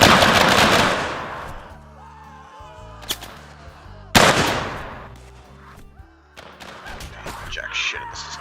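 Rifle volley in Mount & Blade Warband with a Civil War mod, a crackling burst of many shots together followed by scattered single reports and a second volley, with voices talking between.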